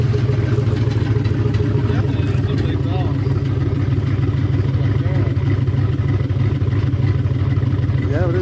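A 2005 Chevrolet Silverado with a 5.3 V8 and a BTR cam idles with a slight lope, a loud, close, steady rumble with something loose rattling in the exhaust.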